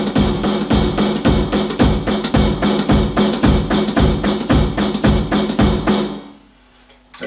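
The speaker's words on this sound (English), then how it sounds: "the snare drum comes in on beats 1, 2, 3 and 4" Steady drum beat with bass drum and a snare on every quarter-note beat, loud and close, repeating regularly for about six seconds before stopping with a brief ringing tail.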